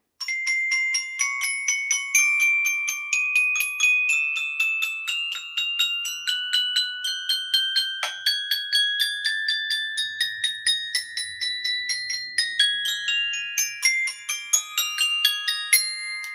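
Mallet percussion rings out in bright, bell-like octave pairs, struck in a steady, quick rhythm with notes climbing and shifting, clear and close with no voices.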